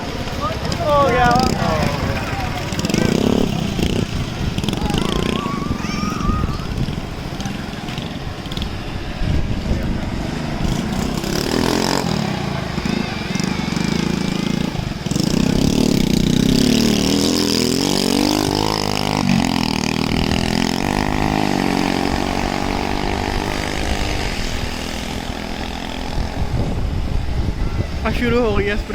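An agricultural crop-spraying drone runs over farm fields in Pakistan with a loud, steady motor hum and buzzing rotor whine that continues throughout, while people talk over it.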